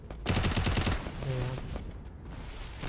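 Rapid automatic gunfire in the mobile battle royale game Free Fire, a quick rattling burst of shots up front followed by continuing game noise, loud and close.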